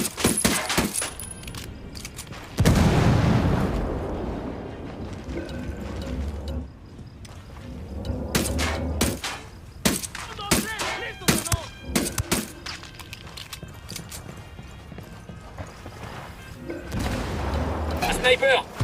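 Gunfire from the tactical shooter game Ghost Recon Wildlands: a series of sharp, loud shots and cracks, some in rapid clusters, mixed with mechanical clicks and rattles, with voices speaking between the bursts.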